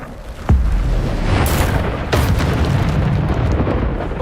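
Bombarda explosion spell in a wizard video game, a deep booming blast kicking in abruptly and rolling on loudly, with a second burst cracking through the rumble shortly after.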